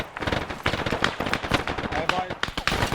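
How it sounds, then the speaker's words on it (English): Dense, rapid gunfire from a military simulation game, Arma 3, in a Benghazi-themed operation, with continuous machine-gun bursts and scattered loud shots that sound close and overlap with voices talking. "I'm hearing a lot of shooting."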